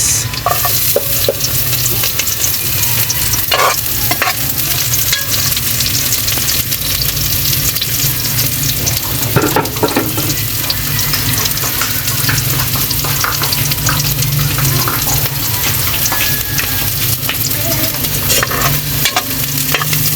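Garlic and onion fry loudly in a pan for native chicken soup, a dense continuous sizzle with constant scraping and stirring from a spatula, close and without any talk.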